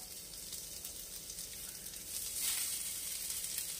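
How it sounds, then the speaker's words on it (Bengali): Snack ingredients dry-roast in a hot pan over low flame with no oil, producing a faint, even sizzle that swells slightly toward the end, with no voices. "আমি ফ্লেমটাকে একটু লো করব, লো করে এইগুলো দিয়ে দেব, একটু সেঁকে নেব।"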